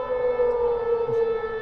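A loud, steady civil-defense-style siren sound effect, used to announce breaking news, drones on continuously with no voices over it.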